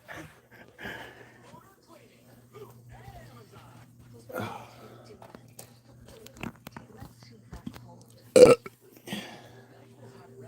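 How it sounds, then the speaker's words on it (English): A single loud, sudden belch from a man stands out amid quiet, sparse speech and breathy sighs, short and close to the microphone. "Belch. Oh, excuse me."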